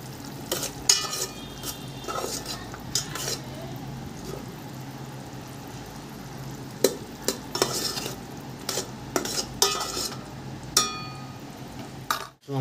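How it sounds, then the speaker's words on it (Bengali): Onions frying in a pan are stirred and mixed with a utensil, giving a soft steady sizzle broken by repeated scraping strokes and occasional sharp clinks against the pan, close up. "ভালো করে মিক্স করে নেব। দেখুন পেঁয়াজগুলো হয়ে গেছে।"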